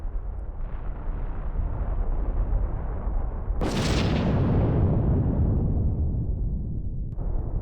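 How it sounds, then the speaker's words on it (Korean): A volcanic eruption rumbles as a constant low roar, then a sudden powerful blast breaks out midway and slowly decays back into the heavy rumble. "대규모 화산 폭발 뉴스가 해마다 전해질 만큼 화산 분화가 자주 일어납니다."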